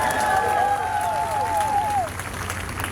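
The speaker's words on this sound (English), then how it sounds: "That's worth applause too." Crowd applause during a presidential speech on clean energy in Kenya, a steady wash of clapping that fills the clip with a whistle-like tone gliding down over the first two seconds.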